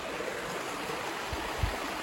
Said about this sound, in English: went for a walk, found this nice little creek.